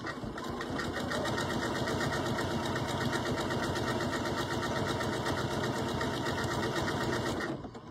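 A sewing machine stitches a decorative eyelet pattern in one steady, rapid mechanical whir and clatter, close and loud, running alone for several seconds before stopping.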